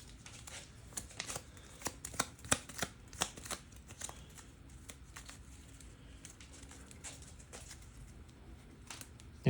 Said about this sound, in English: so let's go ahead and shuffle the deck.